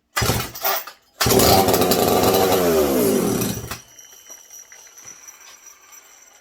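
A McCulloch SP125 chainsaw engine roars loud and close for about two and a half seconds with a steady high-rev drone, preceded by short bursts, then drops back to a faint idle.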